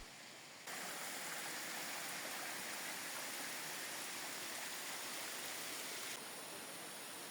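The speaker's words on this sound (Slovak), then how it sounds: "A kto uhádne, čo je toto za vodopád, vyhráva." Steady broadband rush of a waterfall, heard alone and continuous at a moderate level, rising in after a quieter opening second.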